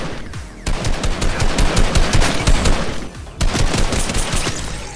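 Rapid automatic gunfire in Fortnite rattles loudly and continuously in bursts, with a brief pause midway before a second stream of shots.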